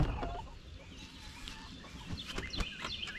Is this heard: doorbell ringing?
no